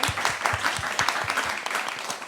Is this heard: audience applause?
yes